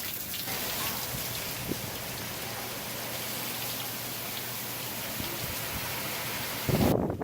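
Steady rain from Hurricane Harvey on the Texas coast pours down in a dense, even hiss, with a few louder drops and splashes close by near the end.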